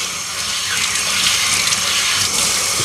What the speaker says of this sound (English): keep rinsing it. Over like that. Squeeze it like that. Keep rinsing it on all sides until all the dirt is out.